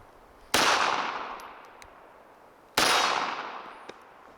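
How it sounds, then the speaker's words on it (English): Two sharp, loud reports from a Walther CCP M2 .380 pistol at a shooting range, spaced a couple of seconds apart, each followed by a long echoing decay. "I was just shooting at the center target"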